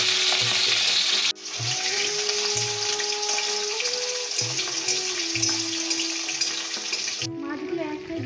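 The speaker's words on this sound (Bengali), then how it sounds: "এখন আমি কড়াইতে তেল দিয়ে মাছটা ভেজে নেব।" Marinated katla fish, salted and dusted with turmeric, fries in hot oil in a wok, making a loud, continuous sizzle that cuts in abruptly and holds steady, with faint tonal sounds in the background.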